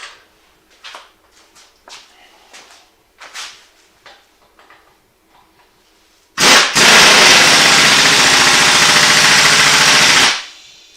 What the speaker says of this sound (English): I just need to use my impact to tighten that nut down